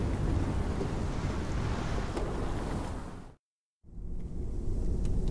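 A steady roar of storm wind with broad rushing noise runs loud and continuous, cutting to silence for about half a second before the gusting resumes at full strength.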